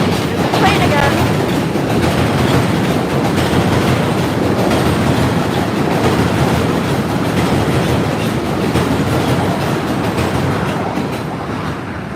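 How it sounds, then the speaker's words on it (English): A New York subway J train roars across the Williamsburg Bridge at night just feet from the walkway, a loud, steady rumble of wheels and rattling cars sustained throughout with no break, close by and overpowering. "it's quite loud on this bridge when walking because of the trains rumbling by, like basically within a few feet of you"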